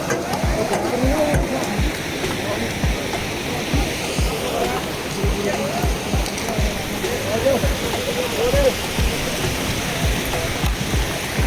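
A glacier meltwater stream on the Amarnath Yatra route in the Himalayas flows steadily and loudly, a continuous churning stream with splashing, while a voice talks intermittently over it.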